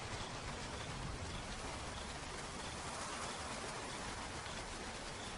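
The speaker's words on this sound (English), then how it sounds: "As soon as the drops hit the ground, the Okavango comes alive" Heavy rain falls steadily on the ground in the Okavango, a dense, even hiss of drops that holds at a constant level throughout with no other sounds.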